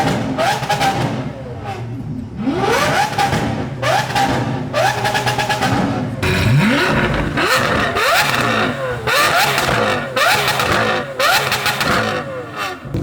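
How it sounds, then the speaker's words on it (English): A Lamborghini Aventador SVJ at a car show revs its engine again and again, about a dozen loud sharp bursts rising and dropping in quick succession, with crowd noise between the revs. "Here comes the SVJ that has not stopped revving ever since he got here"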